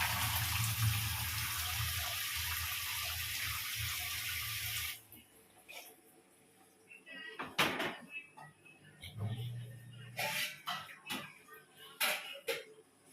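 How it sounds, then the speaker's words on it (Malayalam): Jackfruit seeds washed under a running tap, a steady gush of water for about five seconds, then scattered clatters and rattles of seeds and a pot nearby, with short splashes. "ഇതിൻ്റെ അകത്ത് എന്നാലും നമുക്കത് ഒന്ന് കഴുകി വെക്കാം."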